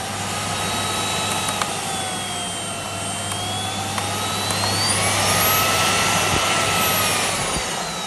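A Miele 5000s vacuum cleaner runs steadily with a constant motor whine and airflow roar, its pitch drifting slightly and swelling louder near the end, no voices.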